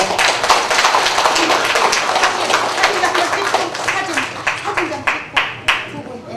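An audience at a regional award ceremony for a national sijo singing contest applauds steadily, a dense wash of clapping that thins into scattered individual claps near the end.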